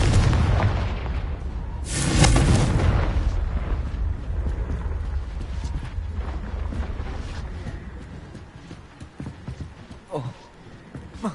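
A Confringo fire spell blasts in Hogwarts Legacy as a single loud, booming burst that fades into rumbling game ambience and scattered clatters.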